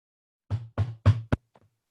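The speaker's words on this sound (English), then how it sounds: "There was a knock at the door." Knocking on a door in a children's Cinderella story, four firm, close raps in a quick uneven run, the last one short and sharp, followed by a faint trailing tap, with no talk over it.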